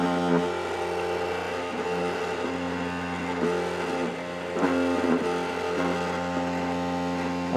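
Loud Xbox Series X disc drive running, a steady droning whir with layered tonal hum and occasional surges in pitch, close and continuous, no talk.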